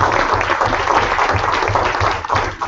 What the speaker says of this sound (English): Please give them a round of applause already in advance.